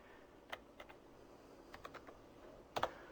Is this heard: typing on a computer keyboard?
yes